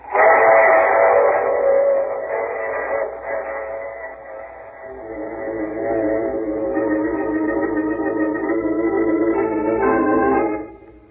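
A train in an old-time radio drama sounds a long, wailing multi-tone whistle over a steady rolling rumble, holding for several seconds before shifting pitch and cutting off, with no voices.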